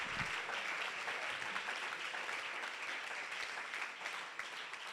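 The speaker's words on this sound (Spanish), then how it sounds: "denle ese aplauso al Señor" A church congregation claps for the Lord during a Spanish-language sermon, a continuous, even wash of applause filling the room for several seconds with no voice over it.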